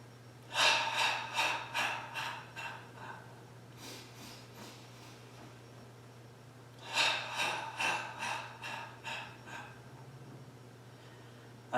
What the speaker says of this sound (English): If I were to emphasize the breathing a little bit, it sounds like this.